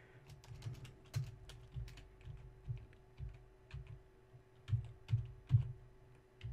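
Computer keyboard being typed on in quick irregular bursts of clicks, with short pauses between the runs, close and fairly soft over a low steady hum.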